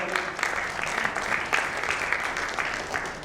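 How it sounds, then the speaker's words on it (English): An audience at a ten-year celebration event claps for the coaches, steady applause that stays fairly even from start to finish. "A big round of applause to the coaches who've done a wonderful job."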